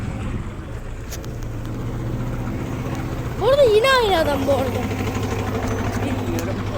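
City bus engine idling and rumbling nearby as the bus arrives at a stop, a steady low drone with a brief squeal, while someone talks over it.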